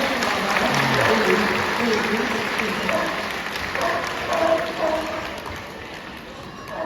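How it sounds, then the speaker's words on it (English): An audience applauds at a sea lion show at Knowsley Safari Park, a broad outdoor burst of clapping that slowly fades, with voices and an amplified presenter audible beneath it. "Yeah, give that big round of applause."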